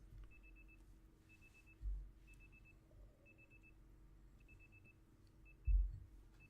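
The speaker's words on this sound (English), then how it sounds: "And yes, you will hear this alarm while I'm fixing this" A soft alarm beeps in short repeated bursts, faint and regular behind a low background hum, with a couple of dull bumps during a quick technical fix on a stream.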